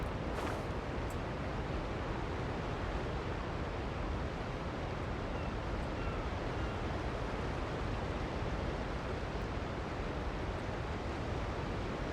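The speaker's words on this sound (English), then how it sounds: "I was wondering what the sound was. But it's the waterfall itself." A waterfall in the video game Genshin Impact roars as a steady, dense rush of falling water, constant and loud throughout with no pauses, and a few faint high clicks rise above it.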